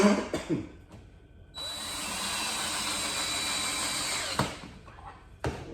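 A power drill drives 1.5 inch pocket screws into a wooden fireplace mantle, whining loudly and steadily for nearly three seconds, bracketed by sharp clunks and knocks of handling before and after the run.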